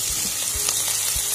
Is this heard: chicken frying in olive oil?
yes